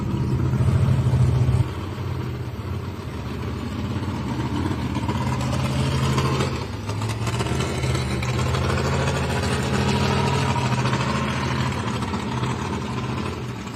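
A pulling tractor's 1,710 cubic inch Allison aircraft engine drones steadily and loudly with a deep rumbling tone, rising slightly partway through, with no talking.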